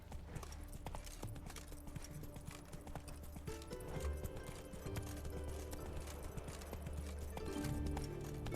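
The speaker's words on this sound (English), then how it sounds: "Run, Roach." Horse galloping in The Witcher 3, a steady rapid clip-clop of hooves over game music and ambience, with a brief whinny, continuous and fairly even throughout.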